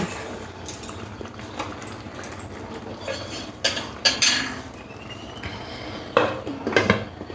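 A lid goes onto a pan of fried parwal (pointed gourd) on the stove, with several sharp metallic clanks and scrapes of cookware at close range amid quieter handling noises, and no talking.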